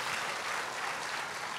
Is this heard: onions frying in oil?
no